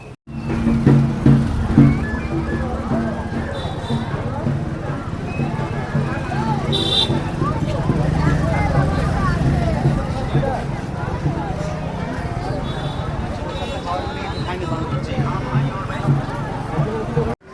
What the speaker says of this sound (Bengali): তো এই হচ্ছে আমাদের যানবাহন, যেটাতে করে আমরা এসেছিলাম। আর এটাকে এখন পার্কিং করা হচ্ছে।